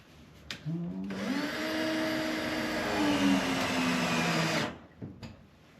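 A power drill driving a screw to mount a shelf, a steady rising whine for about three and a half seconds, close and loud, then stopping.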